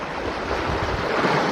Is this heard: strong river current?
yes